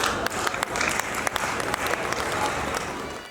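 Applause from an audience at a Hindi poetry recital, a kavi sammelan, a full ovation of many hands clapping with sharp individual claps standing out, steady and then gradually tapering at the end.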